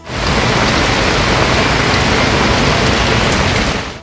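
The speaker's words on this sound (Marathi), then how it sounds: "सोलापूर शहर परिसरात दररोज पूर्व मोसमी पावसाच्या सरी कोसळत आहेत" Heavy pre-monsoon rain pouring down hard and steady in Solapur, India, a dense, loud hiss of drops on surfaces throughout, fading in and out at the edges.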